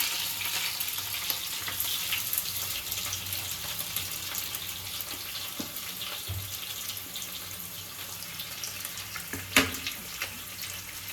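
Sliced onions frying in a pan with mint and green chillies for a Karnataka ragi ball dish, a soft continuous sizzle with faint stirring scrapes and one sharp clink near the end.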